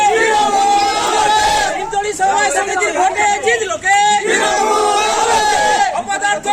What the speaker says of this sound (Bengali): তৃণমূল কংগ্রেসের কর্মী সমর্থকরা জয়ের উল্লাসে মেতে ওঠেন